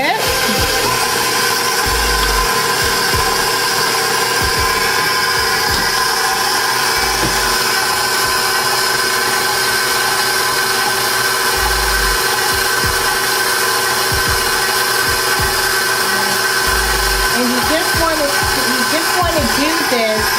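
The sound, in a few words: electric mixer beating cupcake batter with eggs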